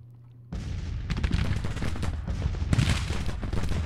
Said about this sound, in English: We are taking artillery fire casualties here